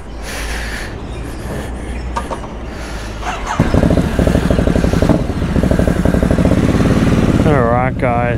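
Motorcycle engine starting up after refuelling and idling with a steady rumble that grows louder, as though ready to ride off, with a person talking over it.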